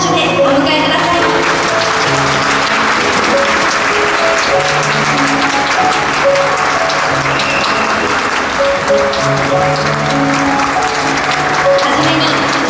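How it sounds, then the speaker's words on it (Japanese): Audience applause greeting a hula dancer at an outdoor final stage show, steady and sustained throughout with music playing alongside. "大きな拍手でお迎えください"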